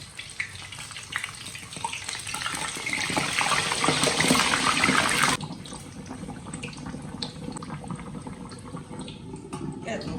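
Pork belly deep-fries in hot oil with a loud, dense sizzle that builds, then drops sharply and turns softer and more muffled about halfway through; a voice is heard faintly.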